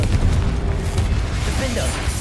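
A Confringo fire spell from the Hogwarts Legacy game bursts in a few booming blasts amid low rumbling combat noise, with a voice calling out spells over it.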